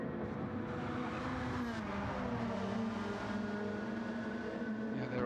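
Race car engines in Gran Turismo 7 at Tokyo in a GT World Challenge, a continuous high revving drone with shifting pitch as cars power out of a corner, steady and fairly loud with no talk.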